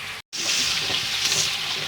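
Rohu fish curry with salt sizzles steadily in a pan as it is sautéed, a dense close frying hiss after a brief break at the start.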